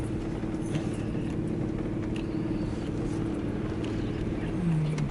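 A GMC Denali pickup truck grinds through mud along the edge of a steep hill, its engine a steady low rumble with faint knocks and creaks, rising briefly near the end.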